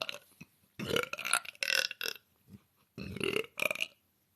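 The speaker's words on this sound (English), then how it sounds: "I'll do one more monster burp" A girl lets out a long, loud burp in several croaking bursts with short gaps, close and prominent, ending in two more strained pushes.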